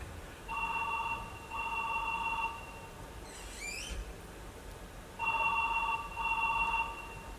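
A telephone rings unanswered in two bursts of paired trilling rings, a pause between them, faint and clear against a quiet room.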